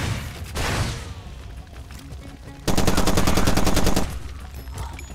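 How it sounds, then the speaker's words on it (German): Enemy gunfire in the video game Far Cry 2: scattered shots and short bursts, then a loud rapid machine-gun volley lasting over a second, with faint talk underneath. "Irgendwie von der Richtung wird geschossen."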